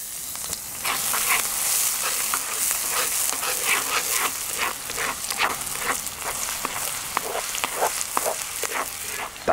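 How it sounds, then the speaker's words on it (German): Chili and garlic sizzle and crackle steadily in hot oil in a Dutch oven, close by, with scattered sharp pops throughout. "wir starten mit den Chilis und Knoblauch und werden das erstmal schön anbraten"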